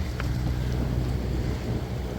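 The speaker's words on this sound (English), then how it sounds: "Had a decent amount of wind," Steady wind rushes past a Catalina 30 sailboat under way in the Rosario Strait, a continuous broadband roar with low water wash beneath, no voices.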